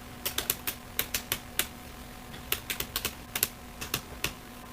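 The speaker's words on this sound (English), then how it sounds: "now I am typing another password." Someone types a password on a computer keyboard with quick, irregular bursts of crisp key clicks that come close and clear over a faint background hum.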